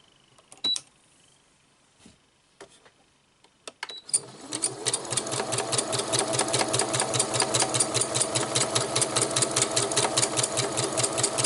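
A domestic sewing machine stitches free-motion embroidery, set up on an embroidery frame, after a few scattered clicks and taps. Then it runs in a steady rapid mechanical chatter with a rhythmic pulse, close and loud, with no voice over it.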